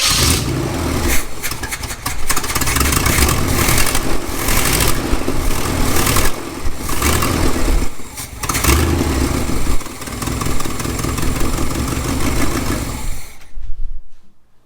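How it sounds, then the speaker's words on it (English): An abandoned 1970 GMC truck engine cranks over, catches and revs hard, loud and close for most of the run, then the sound cuts to near silence at the end. "So the way that it cranks over and just the way that it revs up"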